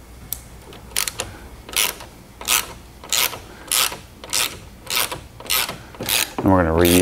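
A hand ratchet backs out T30 Torx bolts secured with blue Loctite on a Porsche 718 GT4's rear wing upright, making a regular series of close, crisp clicking bursts, then a brief tonal whir at the end.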